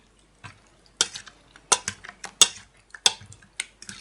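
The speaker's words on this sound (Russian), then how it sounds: "Тщательно перемешиваем, чтобы этот белок впитался в эту печень." Liver and meat stirred together in a pan, a close series of sharp, irregular clicks and scrapes of a utensil against the pan, about a dozen strokes over a quiet background.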